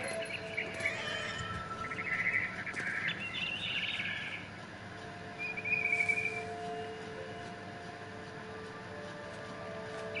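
Frightened bird in What Remains of Edith Finch, a few short bright chirps and twittering calls over a quiet ambient bed, faint and intermittent.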